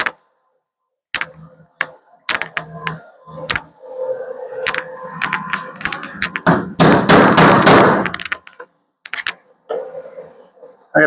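Metal hammer taps on the steel roof of a 1935 Ford being chopped in a workshop: scattered sharp, close strikes with uneven spacing, then a denser, noisier run of blows before a few final taps.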